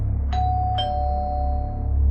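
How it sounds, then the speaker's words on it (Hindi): A two-tone doorbell chimes once, a bright ding followed by a dong, ringing out clearly over a low steady background hum. "घर की डोरबेल बजी।"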